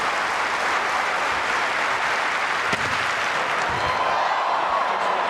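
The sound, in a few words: stadium crowd applauding at Commonwealth Games long jump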